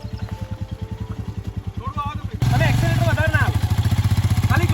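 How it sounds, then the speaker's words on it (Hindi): Royal Enfield Himalayan and BMW motorcycles labour uphill on an off-road trail, a rapid thumping engine beat that grows louder partway through, with a voice talking over the engines. "4 हिमालयन और एक BMW की बाइक यहाँ पे ऊपर चढ़ाना बहुत ही मुश्किल था"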